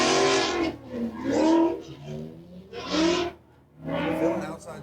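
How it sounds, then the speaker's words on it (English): A race car, a new S550, accelerates hard through an inside clipping point on a motorsports track in a drifting event, its engine roaring in surges beneath a commentator's voice. "Pouring on the throttle through that inside clip."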